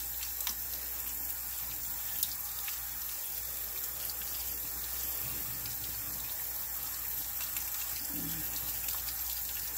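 Tap water runs steadily while a fern fiddlehead is rinsed under it, a continuous even hiss of flowing water with faint clicks and no voices.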